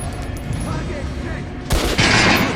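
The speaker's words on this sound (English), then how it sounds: "Try shooting for the center of the regular dummy's chest." Gunshots fired at a training dummy in the shooter game Metro, a sharp loud shot cracking out after a quiet stretch with low rumbling room ambience, followed by a second blast and its echo.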